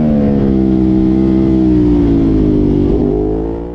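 A racing motorcycle engine at the Misano circuit drones loudly and close, its pitch sliding up slightly and then easing off, then fading toward the end.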